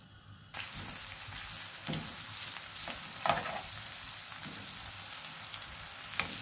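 Onions frying in a pan for a hilsa fish curry: a steady, close sizzling hiss starts after a brief quiet moment and carries on with a few soft stirring knocks.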